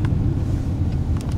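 An Audi A6 driving near Chowpatty Beach in Mumbai, heard as a steady low engine and road rumble from inside or close by, continuous and fairly loud with no talking.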